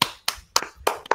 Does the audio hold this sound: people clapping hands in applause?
yes